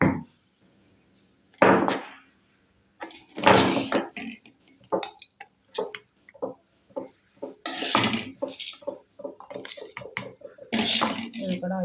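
Dried red chillies and gongura leaves being pounded in a stone mortar, with a series of loud, irregular thuds and knocks in bursts. A voice talks briefly in between.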